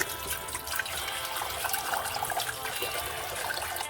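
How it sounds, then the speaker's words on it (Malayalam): Chopped jackfruit pieces are washed in salted water, with a continuous splashing and trickling rush of water handled by hand close by. "കുറച്ച് ഉപ്പിട്ട് ഇത് കഴുകിയെടുക്കുക."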